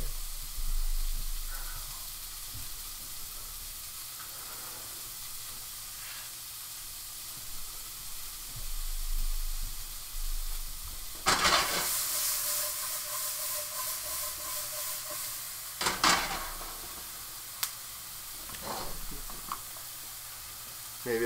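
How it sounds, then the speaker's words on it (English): Onions sautéing in oil in a pan in a smoky home kitchen, a soft continuous sizzle and hiss with a few louder bursts, faint voices at times. "Yeah, onion. Saute that off."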